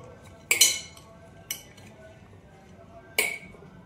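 A spoon stirs lemon pickle in a container, giving three sharp metallic clinks spaced unevenly over a quiet background, close and clear.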